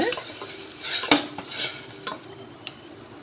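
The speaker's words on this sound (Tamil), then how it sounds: "வெங்காயம் தக்காளி எண்ணெயில் வதக்கி விட்டுக்கோங்க" Ground onion and tomato paste sautés in hot oil in a pan, a soft sizzle broken by several sharp scraping stirs of a metal spoon against the pan, close and without any voices.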